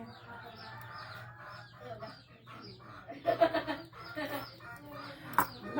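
Chickens cluck in short bursts at a middle distance, with a busier flurry of calls midway and a steady low hum underneath.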